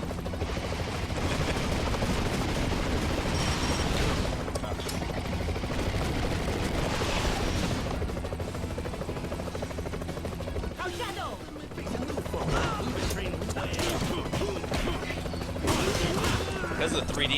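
An enemy killicopter attacks in Double Dragon Neon, its rotor drone and rattling gunfire running steadily amid game music and effects, loud and continuous.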